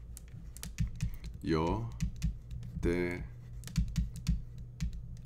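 Quiet clicking of computer keyboard keys typing out a sentence, steady taps under a man's speech.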